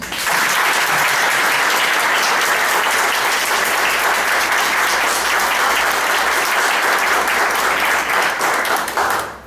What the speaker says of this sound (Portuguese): ele vai receber essa salva de palmas que nós vamos agora